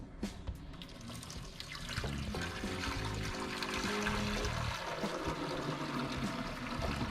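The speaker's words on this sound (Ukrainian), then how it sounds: "Зараз я хочу налити в ротуську рамочку." Water pours steadily from a kettle into a plastic frame feeder for a beehive, a continuous splashing trickle that grows fuller after the first couple of seconds, close by.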